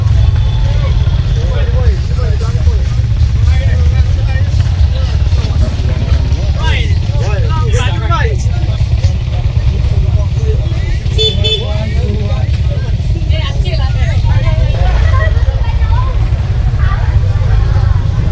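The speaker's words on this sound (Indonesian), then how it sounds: "next kita naik bentor ke homestay satu tiga" A motorized pedicab (bentor) carries passengers to a homestay on Pulau Tidung: a steady low engine drone runs throughout, with brief horn-like tones and other traffic passing nearby.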